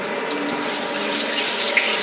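Warm tap water runs steadily into a bowl to soak rice for plov, a close, continuous splashing gush with no talking.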